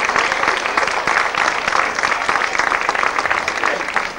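A festival crowd in El Ballestar claps during the 2000 Festes Majors, a loud, continuous patter of many hands with scattered sharper claps, close by and sustained throughout.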